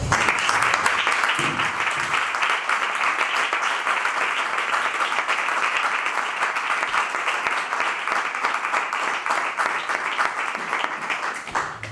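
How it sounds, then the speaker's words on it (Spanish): A lecture-hall audience at the Ateneo de Mairena gives a long ovation for Juan Landero, a loud, dense wash of clapping that holds steady for about twelve seconds before easing slightly at the end. "Un aplauso para Juan Landero y para ella."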